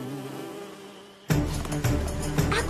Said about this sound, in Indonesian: Lebah kilat.